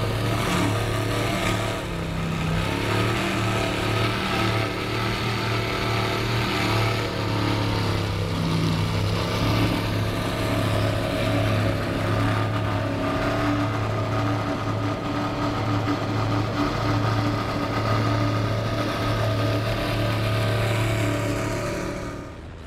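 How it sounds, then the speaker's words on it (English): A powerboat's Mercury Racing 700 engines run at an offshore powerboat event on the Emerald Coast, a loud sustained roar with a strong droning tone that holds steady and then fades away near the end. "Mercury Racing 700s. Great sounding motors."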